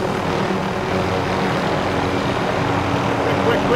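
Steady whirring rotor and engine drone of a helicopter in a shooter video game, continuous and fairly loud throughout, with a voice talking over it.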